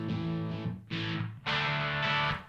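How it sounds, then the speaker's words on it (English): An electric guitar through a Two Notes Le Clean preamp pedal plays a few chords in short bursts, bright and fairly clean with a full, scooped tone, each strum ringing before the next. "to here, which is a pretty classic guitar sound."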